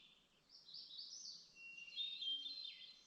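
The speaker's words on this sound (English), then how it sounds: "See, that's a thrush." A thrush sings in the distance, faint fluting phrases rising and falling over a quiet background for a few seconds.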